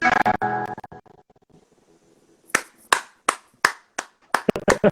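After a sung line fades out, a small group claps slowly and unevenly, about a dozen distinct sharp claps spaced roughly a third of a second apart, close and fairly loud with no talking.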